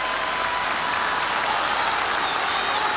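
A stadium crowd at a 1983-84 Tottenham versus Bayern Munich football match applauds steadily in a dense, continuous wash of clapping. It stays loud and even throughout, with a commentator's voice faintly underneath.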